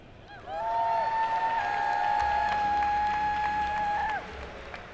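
Crowd cheering at a game tournament from a cheer cannon for a player, a sustained, loud, sweeping tonal whoop lasting several seconds over background noise.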